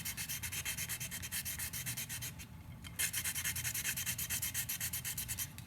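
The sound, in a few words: hand sanding glitter epoxy surface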